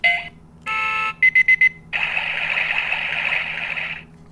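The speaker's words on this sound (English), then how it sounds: "that's where you select which sound effect you want it to play." An Oregon Scientific talking countdown timer plays alarm sound effects: a short tone, a sustained buzzy beep, four rapid chirps, then a long warbling electronic alarm tone, close and clear with no talking.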